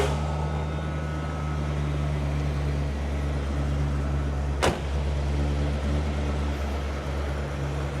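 1978 Cadillac Eldorado with a 425 cubic inch 7-liter V8 and 3-speed automatic, idling with a steady low rumble and hum; a brief sharp click or clunk cuts through partway, then the engine keeps running evenly.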